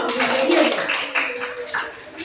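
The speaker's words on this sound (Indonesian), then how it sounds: "tepuk tangan dulu untuk kelompoknya Indi" Schoolchildren in a maths classroom clap for a student group, a short burst of uneven hand claps that fades quickly, with a voice partly overlapping.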